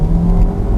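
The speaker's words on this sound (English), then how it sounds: "definitely the sound of this car is nice" An Audi Q3 accelerating along a straight road, heard from inside as a steady, close engine hum with low rumble, brief and without talk.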